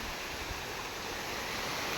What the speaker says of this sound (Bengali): হাওয়া তো দিচ্ছেই সঙ্গে খুব জোরে বৃষ্টিও পড়ছে